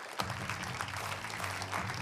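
Studio audience on a Hindi television debate show claps steadily as a guest panelist is welcomed, a dense close applause with a low hum underneath.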